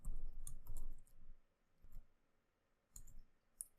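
Keys clatter on a computer keyboard while a Linux command is typed, a brief cluster of close clicks followed by a pause and a few isolated taps, fairly faint.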